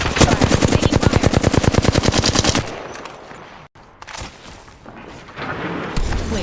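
Rapid automatic weapon fire in an online first-person shooter battle royale match, a loud, close burst of evenly spaced shots for over two seconds, followed by scattered distant shots, a dull boom and game effects.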